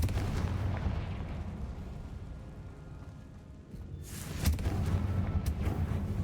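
The Confringo fire spell from Hogwarts Legacy erupts in booming, rumbling blasts. A roaring burst fades into a lower rumble, then a second sharp, crackling explosion swells near the end.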